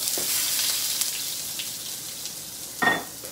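Salmon fries in a pan with a continuous soft sizzle, close and fairly quiet, with a brief louder crackle burst near the end.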